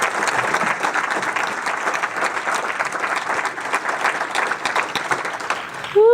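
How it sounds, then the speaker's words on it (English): An audience at an education leadership event breaks into sustained applause, dense and fairly loud clapping that fills the room before fading into a voice at the end. "Can we give him a round of applause?"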